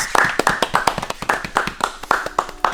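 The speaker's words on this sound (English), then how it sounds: "Everybody clap. Do it. Round of applause." A small group gives a golf clap for a Toyota 2JZ engine run outside the car, sparse close-up claps in an uneven rhythm over a few seconds.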